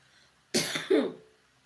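A woman gives a single close, hoarse cough in two quick bursts, followed by a short throat-clearing tail, in an otherwise quiet room.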